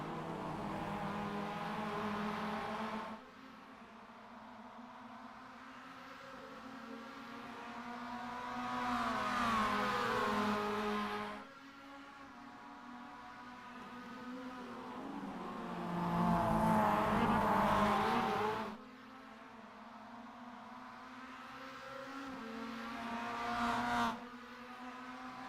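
MX-5 Cup race cars in a sim racing video game, with engine notes that rise and fall over and over as the cars accelerate and pass, heard at a moderate distance.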